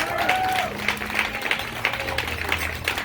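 Applause from a crowd at a Juneteenth rally in St. Louis, steady clapping that rises and falls over a few seconds and sits under an amplified voice.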